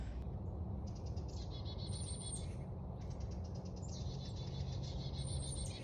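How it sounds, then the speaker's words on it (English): Many small birds chirping and calling on a spring morning, a dense layered chorus of high tweets and trills near and far, with no talking. "hearing chirping. Lots of chirping."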